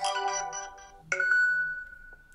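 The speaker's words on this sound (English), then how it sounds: "go ahead and choose all the notification sound which S25 Ultra offers you" A Samsung S25 Ultra notification sample plays a bright electronic chime of quick melodic notes, then a second tone that rings on and fades out, clean and alone.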